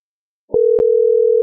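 A telephone line gives a single steady electronic tone that starts abruptly after a short click and holds loud and unbroken, with no voices.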